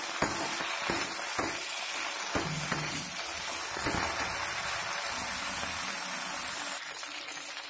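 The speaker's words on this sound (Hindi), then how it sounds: "अभी हमारा आलू भुन रहा है" Potatoes frying in an iron kadai give a steady, close hiss of sizzling oil, broken by a few scraping stir strokes and light knocks, with no talking.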